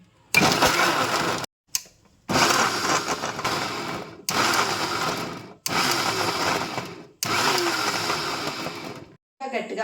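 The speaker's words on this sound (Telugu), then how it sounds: "ఈ బొబ్బాస్కాయ ముక్కల్ని మిక్సీ జార్లో వేసుకుని తురుముగా ప్రిపేర్ చేసుకుందామండి" Mixer grinder grating papaya pieces in a mixie jar, running in five loud whirring bursts of about a second or two each, separated by short pauses.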